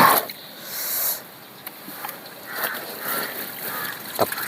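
A bedsheet dunked and sloshed in a bucket of cold water, with uneven splashes and wet swishing in bursts, close by, and a few small knocks between them.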